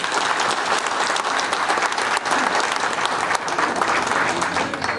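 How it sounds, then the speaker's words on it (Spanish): Sustained audience applause at an event in Mexico, a dense, steady wash of many hands clapping at close range with no pauses, running loud throughout. "agradecerle con un fuerte aplauso de parte de todos ustedes"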